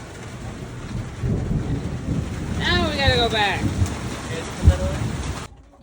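Steady rain patters outside a farm chicken coop, a continuous close hiss with some wind buffeting, while a person talks briefly over it.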